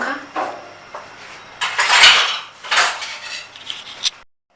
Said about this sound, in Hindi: स्लाइस फ्राई करने के लिए हमने फ्राइंग पैन रखा